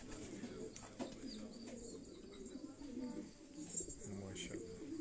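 Belgian pigeons in a loft coo softly in the background amid faint chirps and general loft ambience, while people talk nearby.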